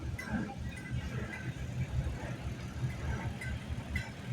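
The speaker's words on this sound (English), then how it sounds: "Toro truck owned by Jim Peternell from Lake Itasca" A 1938 Toro truck rumbling past in a parade at a pioneer farmer show near Lake Itasca. Its steady low engine drone runs under the crowd ambience without a break.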